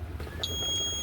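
An AIS collision alarm sounds aboard a solo sailboat on a transatlantic crossing, starting as a brief sharp beep and then holding as a steady high electronic tone over low engine-like rumble.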